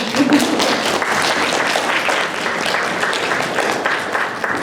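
An audience at a school mock debate claps loudly and steadily for several seconds, a close, dense wash of hands with some crowd murmur mixed in.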